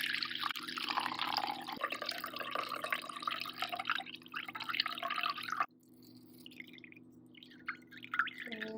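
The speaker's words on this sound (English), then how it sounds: "I'm just going to pour the water." Water pours and trickles into a measuring cup holding rice. It starts as a steady splashing flow, then breaks into quieter drips and dribbles.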